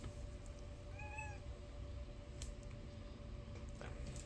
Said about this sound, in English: As my dog chases my cat around.